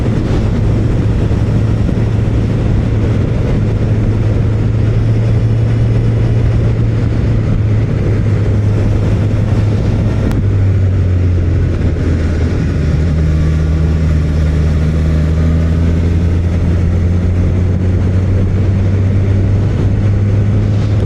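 A 2025 Suzuki Katana motorcycle pulls in sixth gear, a loud, continuous engine drone with a low steady hum that shifts pitch midway, all under heavy wind roar.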